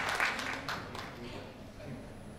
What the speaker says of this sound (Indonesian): Kita berikan aplaus untuk Ibu Wiwi Wiras